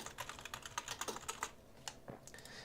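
Fingers type quickly on a computer keyboard, a dense run of light, close key clicks that slows to a few scattered taps near the end, quiet overall with no talking.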